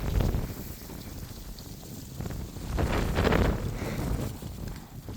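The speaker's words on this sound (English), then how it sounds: "It is pretty windy out here." Strong wind buffets the microphone outdoors during a ride on an ENGWE Y600 e-scooter, a steady loud rushing roar that swells and dips, with no voices.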